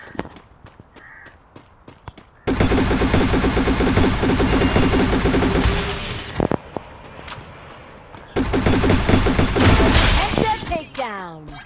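Rapid gunfire bursts in a shooting video game, loud dense volleys lasting several seconds each, separated by quieter stretches of scattered clicks and game sounds, with talk over the action.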